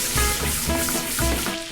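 Lobster pieces sizzle in butter and garlic in a hot pan, giving a steady close crackle and hiss with small pops throughout.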